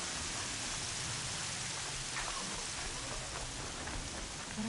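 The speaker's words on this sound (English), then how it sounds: "More rain." Steady, dense rain in the game Horizon Zero Dawn hisses without a break, an even wash of falling water with no voices over it.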